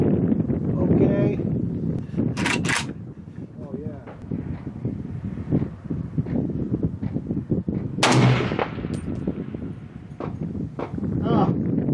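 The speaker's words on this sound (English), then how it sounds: "I'm shooting between the two left targets" AK-47 rifle shots at long-range targets, about 869 yards away, crack out outdoors in a few sharp reports amid wind noise, with people talking between the shots.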